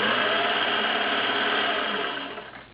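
A vintage metal, gear-driven Singer 401A sewing machine runs a straight stitch, a steady close whirring hum that holds evenly and then winds down near the end, with no speech.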